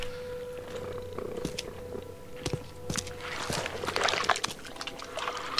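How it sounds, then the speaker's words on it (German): Soft, low purring from a creature in The Sinking City, faint and steady under quiet shuffling steps and small rustling noises, with no speech. "Ich höre ihn, wie er schnurrt."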